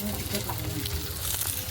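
Rice-flour pitha fries in a pan with a close, steady sizzle and crackle while a person talks over it.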